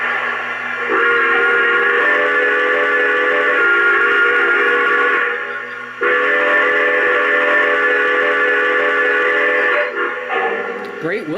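A Lionel model C&O F-19 Pacific steam locomotive whistle blows two long, steady tones with a short break between them, loud and close, with faint mechanical clatter at the very end.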